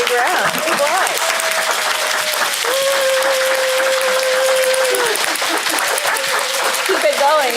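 An audience at a university Three Minute Thesis competition claps in sustained, dense applause, loud and steady for several seconds, with a voice talking over it.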